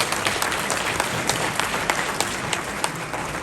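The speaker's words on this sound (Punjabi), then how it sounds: "ਇੱਕ ਵਾਰੀ ਪਲੀਜ਼ ਤਾੜੀਆਂ ਮਾਰ ਦਿਓ ਸਾਰੇ" A protest crowd of international workers in Winnipeg claps and applauds steadily, a dense, continuous patter of many hands at moderate distance.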